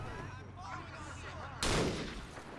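A single loud shotgun blast in the Mirror's Edge video game cuts in sharply after a stretch of game ambience and voice, then decays over the following second.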